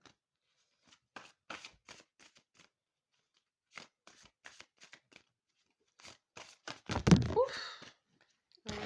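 Oracle cards are shuffled and drawn by hand in a quiet room: soft, close riffling flicks in short bursts, then a louder slapping shuffle near the end.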